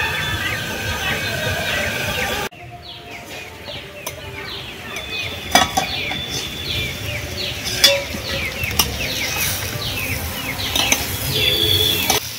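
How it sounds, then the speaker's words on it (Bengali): Potato pieces frying gently in a pan over low heat for potato rolls, giving a soft, steady sizzle with occasional stirring clicks, a voice murmuring faintly in the background. "অল্প অল্প আঁচে আলুটা ভেজে নেব।"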